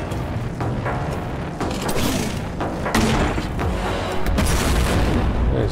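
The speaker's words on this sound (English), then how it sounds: "Vengeance launcher?" Booming launcher shots from the Vengeance launcher in Warhammer 40k Boltgun, a shooter game, thud repeatedly over a dense, loud wash of combat noise throughout.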